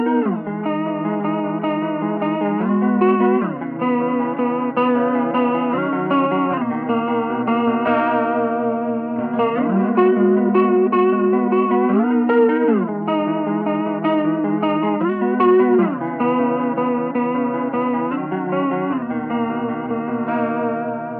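An electric guitar through a pedalboard plays sustained chords with a wobbly chorus shimmer and washy reverb, giving a hazy, lo-fi tone throughout.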